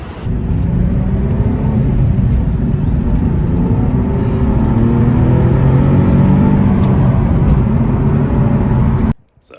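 A Nissan 370Z 40th Anniversary Edition on the move gives a loud, steady engine rumble and road drone throughout, stopping abruptly just before the end.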